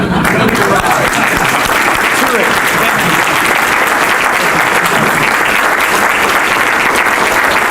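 Audience at a Cooley Law School 50th anniversary gala applauds steadily to welcome Chief Judge Ficarrota, a dense, loud, sustained ovation with crowd murmur mixed in, continuing unbroken throughout.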